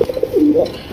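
A male Bombay pigeon coos close by, a soft rolling throaty call rising and falling in a short burst.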